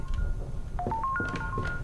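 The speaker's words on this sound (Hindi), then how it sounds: "कहीं पर कोई फोन बजने का साउंड आ रहा है।" A telephone rings somewhere inside a darkened house in the horror game Granny, a series of short electronic tones heard faintly over a low background rumble.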